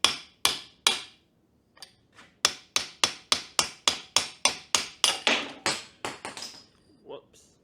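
Hammer striking a socket while working on a broken axle of a John Deere 3025E compact tractor, a close series of sharp metallic blows, a few spaced then a rapid steady run, tapering into lighter taps.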